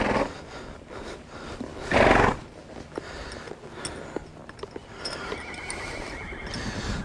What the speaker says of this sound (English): I'll walk him just a minute, then I'll lope some in the other direction.